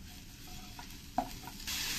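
Ground spices such as cumin sautéed in a pan for paneer masala gravy, giving a low steady sizzle with occasional stirring scrapes and a brief clunk, rising to a louder hiss at the end.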